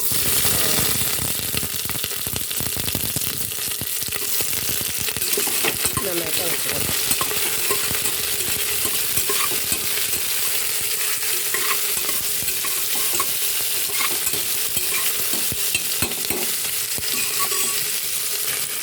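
Steady, loud sizzling of mustard seeds, ginger and chillies frying in hot coconut oil, with occasional stirring clinks; a voice speaks briefly over it.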